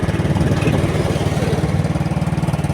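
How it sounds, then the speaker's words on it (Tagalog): Motorcycle engine running steadily nearby, a throbbing mid-low idle with a regular pulsing beat and no talk, holding steady for about three seconds. "kaya may motor"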